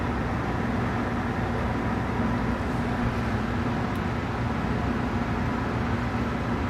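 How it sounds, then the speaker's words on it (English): An air conditioner runs with a steady broadband whoosh like a fan blowing, constant and unbroken throughout, moderately loud with no voices. "Sounds kind of like there's a fan blowing. That would be the air conditioner."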